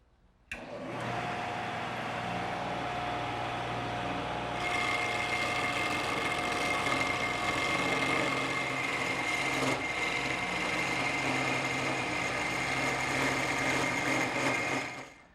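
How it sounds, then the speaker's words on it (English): A wood lathe turns a taper with a square carbide cutter, a continuous motor whine with steady hum and scraping cutting noise starting abruptly, intensifying partway through, then stopping at the end. "I've now changed the triangular cutter to a square carbide cutter, and that'll make quick work of turning the taper."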